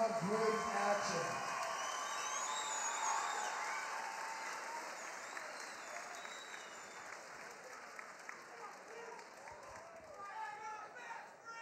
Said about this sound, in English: let's give a big round of applause for 3 rounds of great action